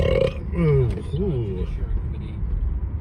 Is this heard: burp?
yes